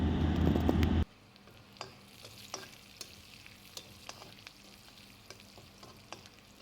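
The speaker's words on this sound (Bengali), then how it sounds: "রসুন আর লঙ্কাটা ভাজা ভাজা হয়ে এলে" Chopped garlic and dried chili fry in hot oil, opening with about a second of loud, dense sizzling that suddenly drops to a quieter, steady crackle with scattered sharp pops.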